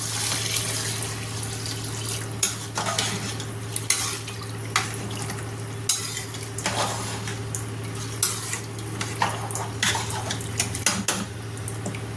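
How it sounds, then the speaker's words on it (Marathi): Water is poured into a pot of rice for khichadi in a home kitchen, with clinking metal dishes and utensils scraping and tapping at irregular intervals over a steady low hum, close and alone without speech. "आपल्याला जेवढा ओलसर भात हवा आहे ना त्याप्रमाणे आपण पाणी टाकूया."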